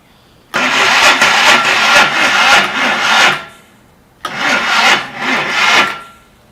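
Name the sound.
Polaris 250 Trail Boss ATV starter cranking engine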